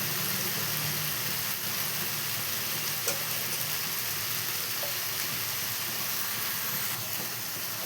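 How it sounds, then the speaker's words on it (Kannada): Capsicum and peanuts frying in a pan with salt, chilli powder and turmeric, giving a steady close sizzle and hiss that holds throughout with a few faint clicks of stirring and no voices. "ಮಿಕ್ಸ್ ಮಾಡಿ ಚೆನ್ನಾಗಿ ಹುರಿಯುತ್ತಿದ್ದೇನೆ"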